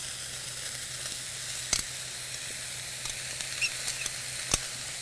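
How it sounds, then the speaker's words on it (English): A vegetable stir-fry sizzles steadily and up close in a hot pan as carrots go in, with a continuous hiss broken by a few sharp pops and clicks of stirring. "Next, I'm going to go ahead and add my carrots."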